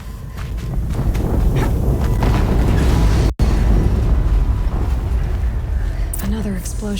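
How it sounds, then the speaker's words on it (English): Heavy, continuous booming roar from an explosion in the video game Horizon Zero Dawn, broad and loud throughout, with a short dropout midway and some tonal game effects near the end. "Another explosion."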